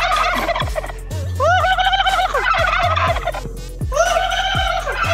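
A voice imitates a turkey gobble in repeated warbling bursts, loud and close, with short pauses between each gobble.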